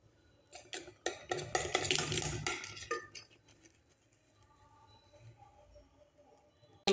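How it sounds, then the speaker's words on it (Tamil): Wheat flour being mixed into banana cake batter in a bowl: a few seconds of quick scraping and clinking strokes from a utensil, then softer, sparse stirring sounds fading away, close and fairly quiet with no talk. "கோதுமை மாவை கொஞ்சம் கொஞ்சமாக கொட்டி நம்ம வந்து நல்லா மிக்ஸ் பண்ணணும்"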